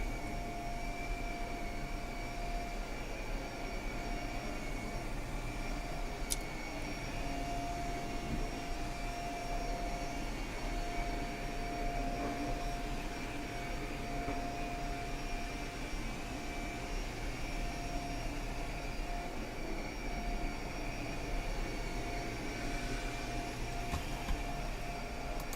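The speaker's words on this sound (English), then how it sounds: "we need to be vacuumed out here too." A vacuum cleaner runs continuously and steadily for the whole stretch, a constant whining drone at even loudness with no pauses.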